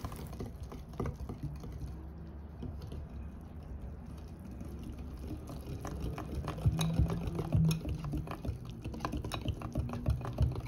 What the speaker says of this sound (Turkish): bu malzemelerimizi el çırpıcısıyla güzelce çırpalım ki tüm malzemeler birbirine iç içe geçsin